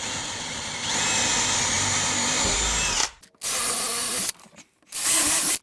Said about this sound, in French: Alors j'ai tracé pour les boutons, on va maintenant les percer.